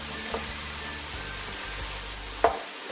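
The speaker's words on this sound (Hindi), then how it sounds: "अब इस मसाले को हम अच्छी तरह भून लेंगे" Masala spices frying in hot oil for a Punjabi chicken curry, a steady close sizzle with a couple of soft stirring knocks, fading out at the end, with no voices.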